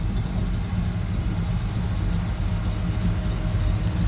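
1982 Chevy K10 Silverado pickup engine idling with a steady, rumbling low throb, close and fairly loud, with no talk.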